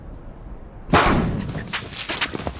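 A claymore mine explodes in a sudden loud blast after a second of near silence, followed by crackling, rumbling debris and scattered pops that fade over the next moments.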